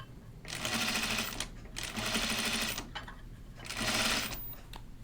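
A sewing machine stitches a garment in three distinct runs, each a close, steady whirring hum with a rapid mechanical chatter, separated by short pauses, with no talking.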